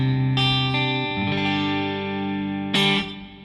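Electric guitar played through a multi-effect unit on a clean preset, sustained chords ringing with chorus-like shimmer and reverb, a few re-struck chords over about three seconds, steady and close with no talking.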